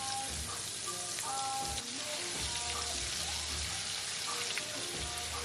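Scallops searing in a hot skillet, a continuous dense sizzle and crackle with occasional soft scraping as they are moved, steady and close with no talking.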